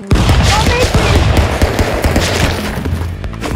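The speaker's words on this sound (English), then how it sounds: "You're a machine gun." Rapid, dense machine gun fire from the Stick Fight video game fills the stretch, loud and continuous with thuds and booms mixed in.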